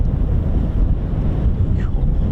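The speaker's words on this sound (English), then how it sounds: "for those that said it sounds a bit windy, it is. It's extremely windy today." Strong wind buffeting the microphone outdoors at RAF Holbeach air weapons range on an extremely windy day, a loud continuous low roar with gusty surges throughout.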